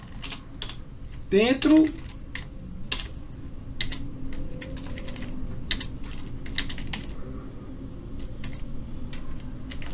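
Computer keyboard typing during a programming lesson, with scattered key clicks and a heavier Enter press, soft and close under someone speaking Portuguese.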